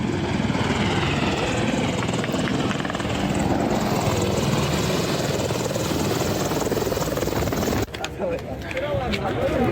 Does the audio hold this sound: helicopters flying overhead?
yes